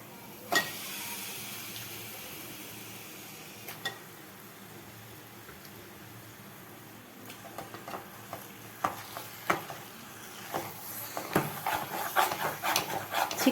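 Chicken sizzles softly in a pan, with scattered clicks and scrapes of stirring growing busier toward the end.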